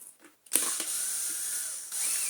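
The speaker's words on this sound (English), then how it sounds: "Then we need to take these two screws off this side of the pivot." Screws being undone from the pivot of a Dyson DC50 Small Ball vacuum, a brief sharp click followed by a steady, quiet ratcheting whir from a close tool, with no talk.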